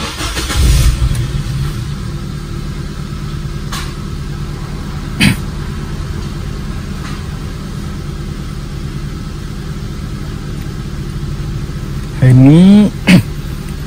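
Nissan Grand Livina engine idling during idle learning with a scan tool, while the engine hunts: a steady mid-pitched idle drone runs throughout, with a brief rev near the end, under occasional talk.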